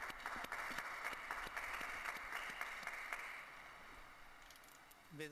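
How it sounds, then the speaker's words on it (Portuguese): A large outdoor crowd at the Pope's Angelus prayer applauds a newly beatified person, sustained clapping heard from a distance that gradually thins out near the end. "Um aplauso ao novo beato."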